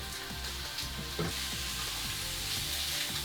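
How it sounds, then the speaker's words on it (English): Beef short ribs searing in hot oil in a pan, a loud continuous sizzle with a sharp burst as the meat goes in, then crackling pops over the steady frying hiss. "The oil is hot. So I'm going to put here the ribs."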